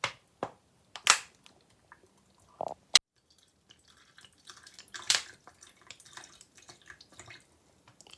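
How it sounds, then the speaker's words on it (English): Water is poured over chopped red onion in a container, giving scattered drips, splashes and trickling bursts with quiet gaps between them, close and moderately faint. "We're going to put some water in it now."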